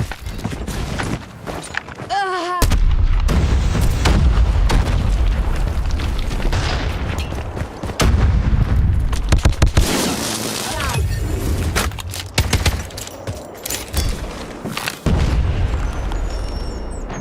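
A frag grenade detonates in the video game Call of Duty Mobile with a heavy, loud boom amid ongoing gunfire and shattering debris, while voices speak during the match.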